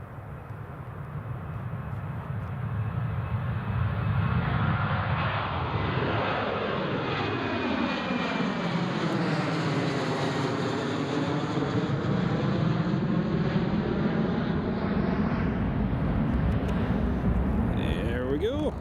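A Jet2 airliner bound for Tenerife takes off from Newcastle International Airport, its engines swelling to a loud sustained roar that sweeps past and slowly recedes into the distance.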